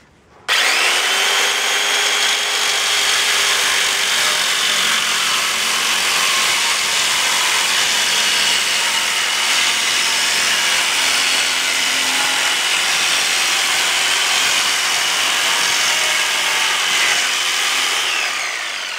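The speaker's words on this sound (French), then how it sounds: "Les coupes des briques se font aisément grâce à la scie alligator." A steady, loud alligator saw cutting through bricks, droning continuously with a gritty grinding texture from start to finish.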